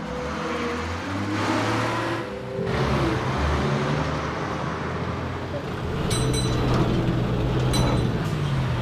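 A bus idles and rumbles as it pulls in to a stop, with a heavy low engine drone and a shift in pitch partway through. People talk over it, and a few sharp metallic clicks come near the end.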